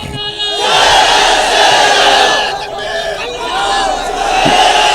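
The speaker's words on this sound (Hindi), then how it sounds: "तो जोर से नारा लगाइए" A large crowd at a political rally in Jaunpur roars a slogan chant in unison, loud and sustained in two long swelling waves of massed voices.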